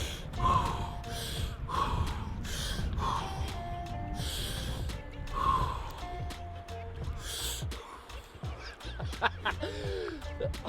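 Sharp gasping breaths from a person immersed in a cold, snow-fed lake during a cold-exposure session, repeating roughly every second or two in a loud, close series with splashing and movement behind them.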